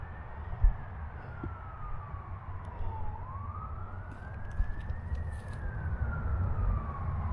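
An ambulance siren passes at night near a forest, its long rising and falling wail sweeping slowly over a low rumble of traffic, moderately distant and with no talking.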